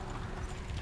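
Horses' hooves clip-clop steadily as they pull a carriage driven by a coachman, a continuous, fairly quiet rhythmic clatter under a broad outdoor wash of noise.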